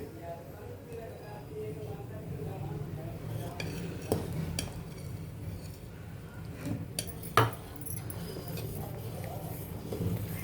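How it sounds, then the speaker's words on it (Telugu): Ragi flour stirred into boiling porridge water in a pot, with soft scraping and a few clinks of a utensil against the pot under a low bubbling bed, all fairly quiet. "ఇది రాగి పిండి కలుపుకుంటూ వేసేయాలి"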